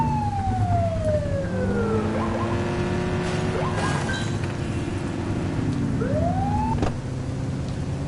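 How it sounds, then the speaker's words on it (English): A police car siren in a video game wails with sweeping rising and falling tones over a steady engine rumble, loud and close, sustained across the whole stretch. "Get on their tail and flip the siren."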